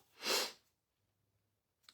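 A single sharp, loud sneeze bursts out up close, then quiet follows with only a faint breath at the end.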